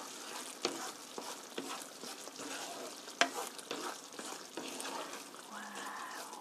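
Curry being stirred in a pot just after ground black pepper goes in: a quiet wet sizzle punctuated by several sharp clicks and taps of the spoon against the pot, with no talking.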